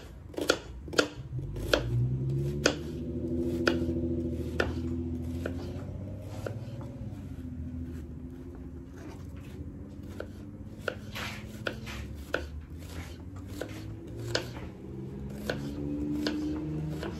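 A knife chops an onion into long strips for fish cooked in oil, giving a steady run of sharp, close cutting strikes against a board that continue throughout with no talking.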